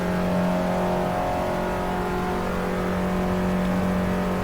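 An Abarth 500 engine in the racing game Assetto Corsa holds a steady, loud, buzzing drone at constant revs throughout, with no voices.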